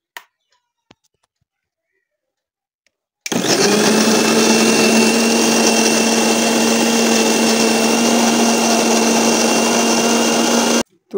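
An electric blender grinding onion, garlic, ginger and spice masala, a loud steady motor whir that starts abruptly after a few seconds of near-silence and runs unbroken for about seven seconds before cutting off.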